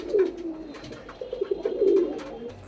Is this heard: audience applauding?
no